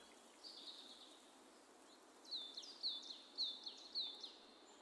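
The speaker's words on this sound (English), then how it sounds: "That's what the bird sounds like." Bird calls in a video game, a short chirp followed by a run of five repeated whistled notes in a steady rhythm, clear but modest over a soft hissing background.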